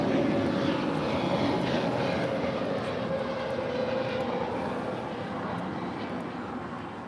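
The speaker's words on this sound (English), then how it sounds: "That is United 2451 coming in from Chicago on a 737-900" A United Boeing 737-900 arrives at LAX from Chicago. Its jet engines give a steady, broad roar that fades slowly as the plane passes, with no talk over it.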